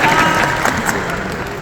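An audience claps together in a dense, steady burst of applause, fairly loud and close, with light crowd murmur mixed in.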